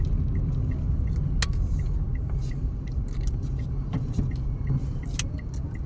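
Road traffic rumbles steadily from inside a moving car, a low continuous drone with small clicks and rattles over it, close and moderately loud throughout.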